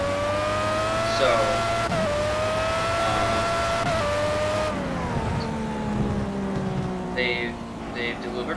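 Formula A open-wheel race car in Project CARS at the Nurburgring, a naturally aspirated engine of a roughly 600 kg car screaming at high revs with gear-change drops and downshifts, loud and continuous, with someone talking over it.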